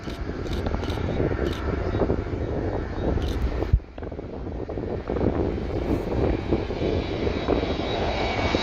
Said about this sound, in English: This Airbus A321neo landing at Skiathos Airport in Greece